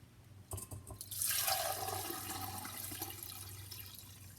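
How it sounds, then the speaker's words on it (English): Limoncello being poured into a bottle, a soft liquid stream and gurgle building after a couple of light clinks, then running steadily at low volume to the end. "And pour some more in here."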